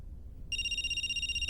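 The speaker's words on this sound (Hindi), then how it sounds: "मैंने अपना सारा गुस्सा भुलाकर उसको फोन करने के लिए फोन उठाया ही था कि तभी मेरे फोन पर फोरेंसिक टीम से कॉल आया।" A phone starts ringing with an incoming call, a steady electronic ringtone tone that begins abruptly and continues alone over low background noise, ending with a short click.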